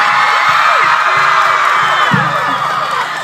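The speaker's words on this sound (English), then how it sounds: "Give her another round of applause." A mall crowd cheers and whoops for an author at a live tour event, with shrill shouts and a dense, loud roar of voices filling the whole stretch.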